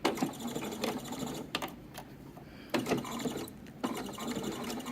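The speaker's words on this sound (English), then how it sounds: "Then we're going to take a couple stitches, and remember we have 1/4 inch seam allowance" A sewing machine with a slightly jumpy needle stitches a 1/4 inch seam on lacy lingerie, running in three rapid mechanical bursts separated by short pauses, close and alone.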